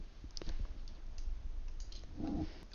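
A computer mouse gives a few light, close clicks while someone works in Photoshop, sharp and separate taps over a quiet room with no speech.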